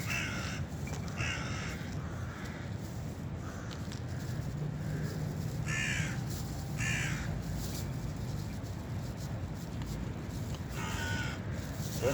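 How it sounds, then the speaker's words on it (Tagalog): Crows caw repeatedly while being fed outdoors, several harsh calls scattered at irregular intervals over a steady wind-blown background, moderately near. "At magpapakain tayo ng ibon"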